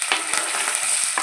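Curry leaves crackle in hot oil with mustard seeds, chana dal and urad dal, a bright, dense sizzle with a few sharp pops, close and loud throughout the short moment.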